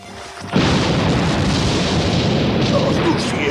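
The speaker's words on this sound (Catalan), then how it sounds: "semblava una explosió de granada" A grenade blast in an animated police action scene bursts in abruptly after a short quiet lead-in, then a loud, sustained roar of rumbling debris and noise fills the rest, with no voices over it.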